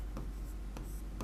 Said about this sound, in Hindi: तो ये बात हम यहाँ पे लिखेंगे